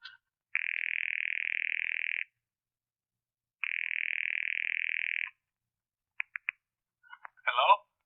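An old-fashioned telephone sounds two long, steady, mid-pitched tones separated by a pause, then a few sharp, isolated clicks and a short warbling burst, all clean and close with nothing else heard.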